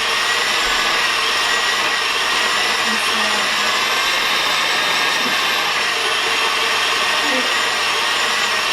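A KitchenAid stand mixer runs at a steady, loud motor whine with a constant high-pitched hum that holds throughout, close and uninterrupted.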